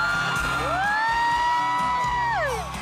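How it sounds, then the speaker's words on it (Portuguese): A crowd of fans screams and whoops at a concert in Tijuana, Mexico, a loud sustained roar with high shrieks that rise and then fall away. "O cantor brinca com as fãs e arranca gritos"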